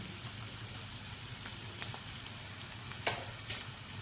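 Ginger garlic paste frying with browned onions in a pan, a faint steady sizzle with light crackling pops and a few scraping stirs, close up with no talk.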